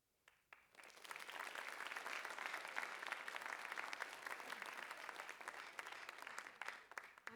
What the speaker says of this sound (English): let's give one more big round of applause for all of our presenters today